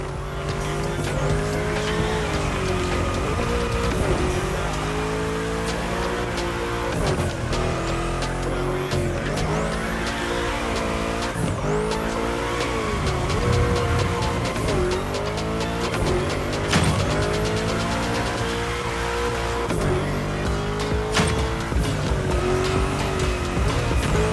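A car drifting in The Crew Motorfest, a racing video game, with its engine revving loudly and long, wavering tire squeals repeating throughout, rising and falling as the slide is held and changes direction.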